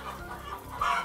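Caged laying hens on a poultry farm, around 120 birds to a cage, cluck in an overlapping, steady chorus that rises briefly toward the end.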